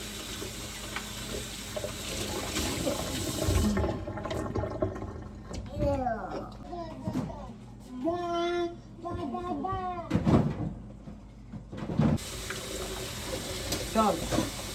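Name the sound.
water running while washing an item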